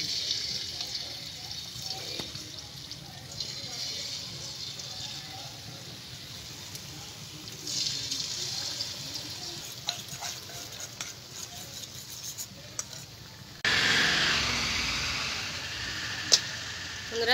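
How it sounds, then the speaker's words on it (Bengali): Batter-coated eggs fry in hot oil for an egg chilli dish, giving a steady, moderately loud sizzle and crackle with a brief louder burst near the end and a few light utensil touches. "এবার ডিমগুলোকে আমি ভেজে নেব।"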